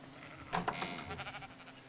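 A sheep in a video game gives one short, close bleat after being hit, standing out briefly over quiet background.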